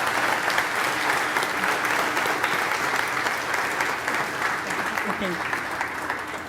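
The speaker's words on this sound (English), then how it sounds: "A big round of applause for Teresa." An audience applauds a cooking presenter named Teresa at a culinary conference, steady dense clapping filling the clip, with a brief spoken word near the start.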